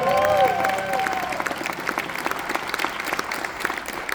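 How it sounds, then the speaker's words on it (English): An audience claps and applauds steadily at moderate volume, with a brief whistle or cheer near the start. "Give it up for Brandon, everybody."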